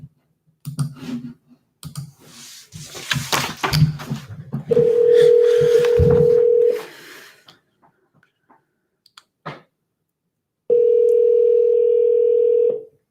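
Telephone on an outgoing call: a burst of clicks and key presses, then a long steady tone, a few isolated clicks, and a second steady tone starting after a pause, all without talk.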